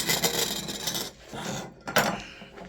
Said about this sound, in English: Now I just need to sand it down.